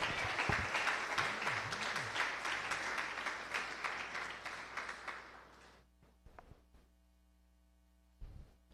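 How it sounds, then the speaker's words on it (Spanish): A church congregation applauds during an evangelical service, dense steady clapping that fades out after about six seconds, leaving low hum and a few faint knocks. "Aplauda al Señor."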